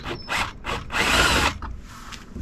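A power drill whirs in short bursts while drilling in a VW Crafter van for a dashcam installation, then runs steadily for about half a second of grinding before winding down, close and loud.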